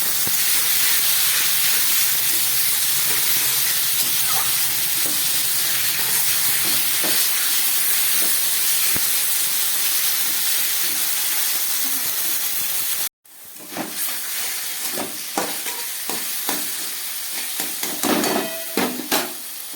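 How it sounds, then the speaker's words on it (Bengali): Taro leaves hit a pan of frying onion and garlic with a loud, steady sizzle and hiss; after a brief cut, sharper crackling and spattering pops follow as the greens cook. "পেঁয়াজ রসুন ভাজা হয়ে গেছে। এবারে এই কচুর শাকটা দিয়ে দিচ্ছি।"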